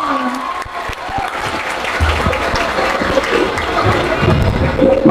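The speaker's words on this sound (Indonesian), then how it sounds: "Tepuk tangannya dong" Loud applause from a large university crowd at an event in Jakarta, with many hands clapping and some cheering, the clapping building slightly toward the end while a few voices murmur underneath.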